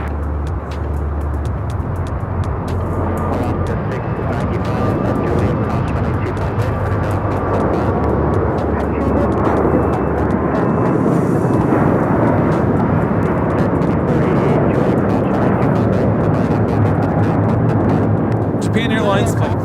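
A Japan Airlines Airbus A350-1000 takes off from Los Angeles International bound for Tokyo Haneda, its engines building into a loud, sustained roar that swells toward the end, with voices talking over it.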